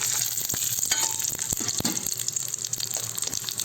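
Ingredients sizzle in hot ghee in a pan while payasam is being made, producing a loud, steady frying hiss with occasional crackles and stirring scrapes throughout.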